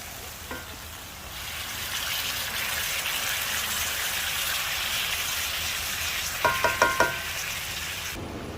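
Beef and shrimp stir-fry sizzles loudly in a hot pan, a steady broad hiss throughout, with a few quick scraping clinks of stirring near the end.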